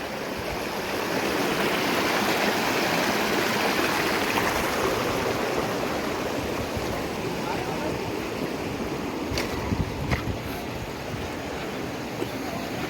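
The Kalsa river near Nainital runs as a steady, loud rushing of clear water over large stones, continuous and close throughout, with a couple of faint knocks near the end.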